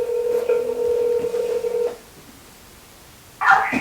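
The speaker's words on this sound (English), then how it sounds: "I hope you can hear this phone call." A telephone dialing a call: a steady line of dial-tone-like beeps for about two seconds, then quiet, then a short bright electronic tone burst near the end.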